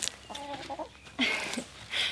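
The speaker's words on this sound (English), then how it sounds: "The chickens are already starting to try and come over." Chickens cluck close by in short, throaty bursts, with a couple of brief soft calls over light background noise.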